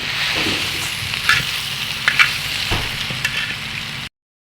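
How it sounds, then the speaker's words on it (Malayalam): Beef pieces frying in a hot pan while being stirred, a close continuous sizzle with a few scraping knocks from the spoon, then silence at the end. "ഇത് ഇതുപോലെ തന്നെ നല്ലപോലെ ഇളക്കി അത് പറ്റാതെ നോക്കണം"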